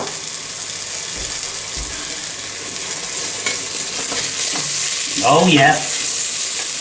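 Food browning in a hot frying pan with its juices, a continuous loud sizzle with stirring and scraping, while someone briefly speaks near the end.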